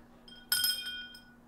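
A small bell is rung once in a hotel, sounding as a bright, glassy ting with a brief shimmering ring that fades over about half a second, fairly close and alone without talk.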